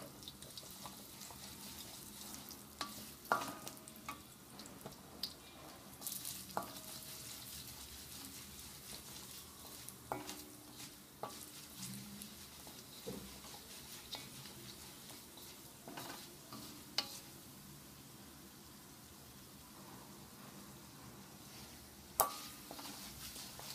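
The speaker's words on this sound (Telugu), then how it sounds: "పోపులన్నీ కొంచెం ఫ్రై అయ్యేలాగా మనం వాటిని ఫ్రై చేసుకోవాలి, వేపుకుంటూ ఉండాలి" Spices and curry leaves sputter and sizzle as a tempering in a pan for beetroot fry, a faint steady crackle broken by scattered clinks and scrapes of stirring.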